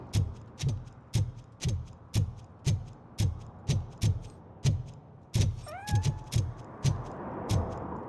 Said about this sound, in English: I hear a fucking meow again.